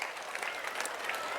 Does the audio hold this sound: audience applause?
yes